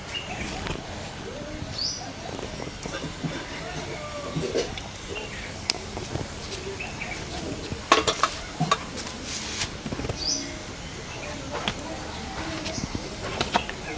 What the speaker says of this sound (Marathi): तेल गरम झालेलं आहे, जिरा घालत आहे